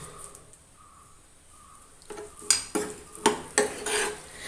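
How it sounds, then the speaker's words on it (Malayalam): Kadala curry, a chickpea curry with curry leaves, is stirred in a pot, quiet at first, then a spoon scrapes and clanks against the metal in several sharp, close strokes. "നന്നായി മിക്സ് ചെയ്യാം"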